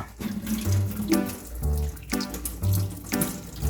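Tap water runs steadily from a faucet over vegetables being washed as tortoise feed, a close, continuous splashing stream with no voices.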